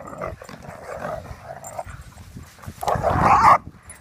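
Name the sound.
dog making noises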